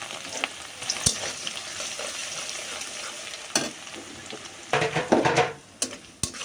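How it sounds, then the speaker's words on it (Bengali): Oil sizzles steadily in a wok as dried chillies, onion and garlic fry, with several sharp spatter pops and stirring scrapes breaking through the constant crackle. No one speaks. "এখানে কড়াইতে আমি তেল শুকনো মরিচ দিলাম আর সে পেঁয়াজ রসুন রসুনও বেশি দিলাম"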